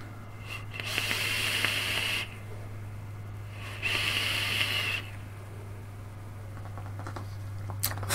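Two long airy hisses of vapor being drawn through a Wotofo Ryujin Elder Dragon RDA, each lasting about a second, close and steady over a low electrical hum, with quiet pauses between.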